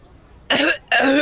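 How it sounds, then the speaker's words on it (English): A woman coughs twice in quick succession, two loud, harsh bursts separated by a short pause, heard close and alone without talk. "She coughs again."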